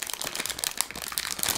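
Crinkling of a plastic packaging bag as it is torn open during a cable unboxing, a dense, close crackling rustle that runs continuously without speech.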